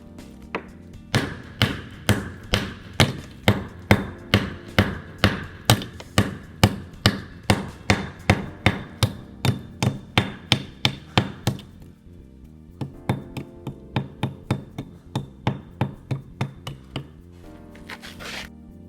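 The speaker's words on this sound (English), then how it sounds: "They're just going to do it with a hammer" A mason knocks a box cut into a wall with a hammer, sharp steady blows ringing out one after another in a quick regular rhythm, with a brief pause before the strikes resume, close and alone.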